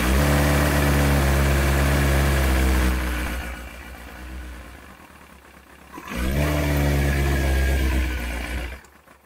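A Kawasaki ZX-9R motorcycle engine is started on choke in neutral and settles into a loud, close, steady idle that dips briefly before rising again.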